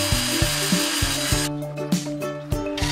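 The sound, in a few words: marking tool digging into wood at the center point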